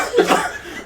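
A single short cough rings out close by at a tabletop role-playing session, rough and breathy, with a slight chuckle-like tail.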